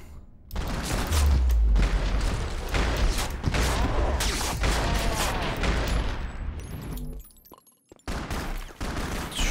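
Gunfire in the video game Max Payne 2 breaks out as dense bursts of rapid shots with heavy booms, loud and sustained, then cuts to a brief silence before resuming.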